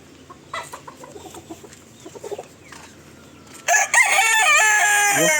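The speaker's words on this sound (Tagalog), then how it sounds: "marami alagang manok dito" Soft clucking in the background gives way to a loud, close rooster crow that fills the last seconds, stretched and wavering.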